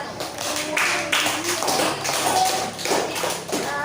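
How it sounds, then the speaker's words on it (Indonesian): Class applauding a student group with a brisk, continuous clatter of many hands, close and moderately loud, with some voices mixed in underneath. "Kita kasih tepuk tangan dulu untuk kelompok 1."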